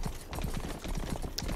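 Horse hooves clip-clopping as a rider travels in the Western game Rustler, a steady run of soft, evenly spaced beats heard up close under a busy game soundscape.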